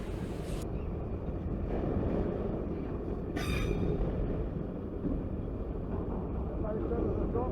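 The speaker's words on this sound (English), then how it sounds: "transition of it coming off of the siding through the switch onto the main line" CSX freight train crossing from a siding through a switch onto the main line, heard as a steady broadband rumble of rolling cars with a brief metallic squeal partway through, fairly loud and continuous.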